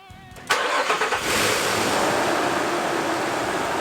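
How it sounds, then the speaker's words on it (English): A 2008 Nissan Xterra engine starting after cooling system work: a short cranking burst, then the engine catches and settles into a steady, close idle. "First start after all this work is always a bit exciting."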